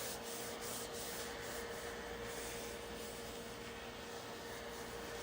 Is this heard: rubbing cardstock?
yes